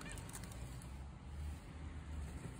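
Cockatoos honking and squawking outdoors, with brief harsh calls over a low steady rumble.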